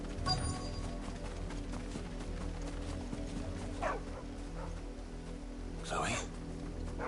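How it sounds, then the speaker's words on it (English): A dog barking in Final Fantasy XVI, two short barks a couple of seconds apart over quiet game ambience, with a voice speaking briefly. "No, that's a dog."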